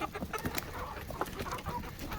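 Chickens let out on a cold morning cluck and squawk in quick irregular bursts at moderate distance, several birds overlapping against faint background noise.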